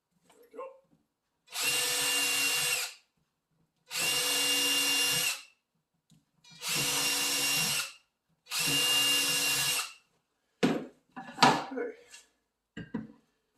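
Four bursts of a power drill running steadily, drilling positioning holes in wood, each a couple of seconds long, close by, followed by clatter and handling noises.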